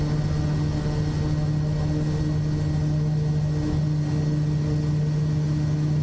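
A steady, loud aircraft engine drone from Microsoft Flight Simulator 2024 hums evenly without pause, with a constant low tone and broadband roar throughout.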